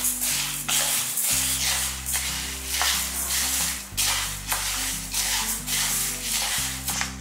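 Black urad dal and sesame seeds dry roasting in a pan, stirred with a spoon in repeated scraping, rustling strokes, while a steady low background tone runs underneath.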